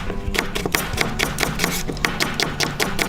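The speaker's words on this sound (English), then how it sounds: "Slice the onions." Knife slicing onions on a board in a kitchen, a fast, steady run of crisp cuts repeating about every quarter second, close and clear.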